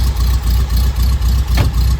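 A Volkswagen Karmann Ghia engine runs close by at a loping idle, its low, even pulses repeating about every quarter second, with no voices over it.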